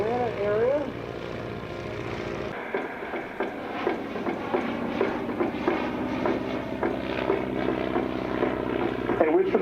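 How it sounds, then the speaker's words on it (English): A Stearman biplane rolls down the runway for takeoff at an airshow, its radial engine and propeller droning loudly and steadily, with a commentator talking over it. "And on the takeoff roll right now is Skipper"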